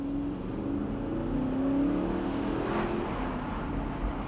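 An Audi R8 Spyder V8 with S tronic gearbox accelerates hard at full throttle, its engine note heard from inside rising in a steady droning pull with shifting harmonics, loud and continuous throughout.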